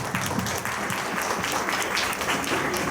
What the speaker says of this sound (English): Again, one more round of applause for Ram,